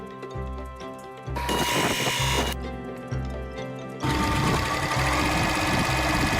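A sewing machine runs in loud, bursting runs as it stitches the fabric sides of a picnic basket together, its rapid needle chatter starting and stopping several times with short pauses between.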